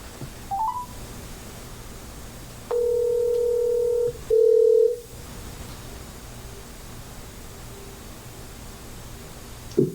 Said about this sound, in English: we're going to get Gary on the phone here.